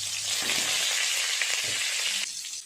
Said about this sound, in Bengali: এই সময় আমি আলুটা ভাজা করে নেব